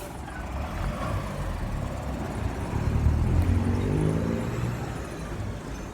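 A large bus rumbles past on a city street, its engine swelling louder mid-pass before easing off, over steady outdoor traffic noise with no talking.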